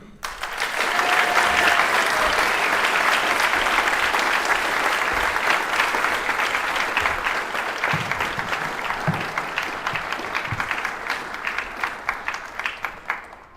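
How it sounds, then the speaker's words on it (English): Graduation ceremony audience at the Craft Academy giving a sustained, loud round of applause to welcome the co-speakers, dense crowd clapping that holds steady for over ten seconds before tapering off. "give a rousing round of applause and welcome our co-speakers for today"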